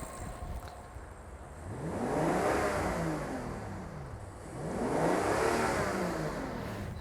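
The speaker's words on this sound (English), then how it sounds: "But what will happen if I rev the engine?" A Rolls-Royce Phantom's engine revs twice, each blip climbing smoothly in pitch then falling back to a steady idle, close and fairly loud with no voices.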